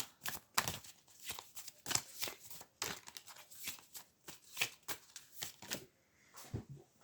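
Tarot cards shuffled by hand in quick, crisp riffling bursts, close and fairly quiet, with one card dropping near the end.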